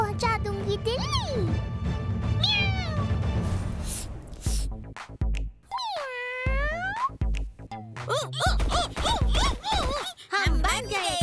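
A cartoonish voice imitates a cat with several rising, wavering meows, mixed with music and other playful sounds.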